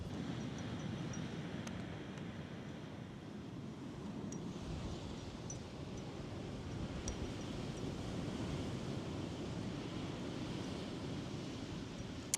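Ocean waves wash onto a beach at Chincoteague, Virginia, a soft, steady surf hiss with some wind buffeting the microphone and a few faint ticks, and no talking.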